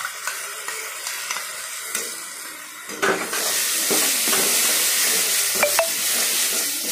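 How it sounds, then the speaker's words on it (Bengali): Mustard paste stirred in a hot pan for a mustard fish curry with khoyra fish: a quiet few seconds, then a loud steady sizzle with scraping stirs close by, and no talk. "দিয়ে ভালো করে নাড়াচাড়া করলাম।"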